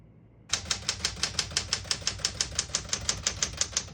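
Rapid, even keystrokes on a 1970 Smith-Corona Super Sterling portable typewriter, about twenty crisp mechanical clacks in steady rhythm, close up, with no speech.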